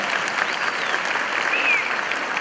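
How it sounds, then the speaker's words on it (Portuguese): Sustained applause from an audience of lawyers at a legal talk on procedural deadlines, dense and steady throughout, with a faint voice briefly audible over it. "Palmas, gente, palmas."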